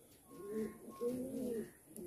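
Madrasi pigeons giving two low, rolling coos one after the other, close and fairly quiet against a hushed background.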